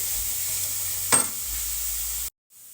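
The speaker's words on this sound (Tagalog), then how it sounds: "magpiprito ako ng 2 tuyo" Two dried fish (tuyo) frying in a pan, a steady close hiss of oil with one brief louder crackle, then a sudden cut to near silence before the sizzle faintly returns.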